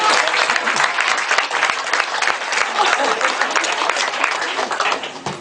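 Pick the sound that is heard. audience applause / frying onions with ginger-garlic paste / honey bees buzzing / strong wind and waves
audience applause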